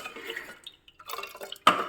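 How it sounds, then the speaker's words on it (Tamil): Spoon stirring a pot of buttermilk kuzhambu on a lit stove in a home kitchen, giving soft scraping and clinking metal sounds with a sharper, louder clatter near the end, heard alone without talk. "அடுப்பு பற்ற வச்சு இப்போ நல்லா கிளறீங்க"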